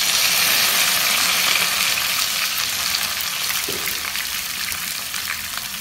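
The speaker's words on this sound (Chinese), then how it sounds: "炒一下。" Seasonings stir-fry in a hot pan with a loud, steady, close sizzle throughout, no voices over it.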